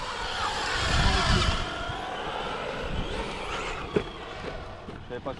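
A Traxxas Slash Raptor R RC car with a 3670 2400kv motor on 4S drives on tarmac, its tyres and motor giving a rising rushing whir and a few sharp clatters, with steady talk over it.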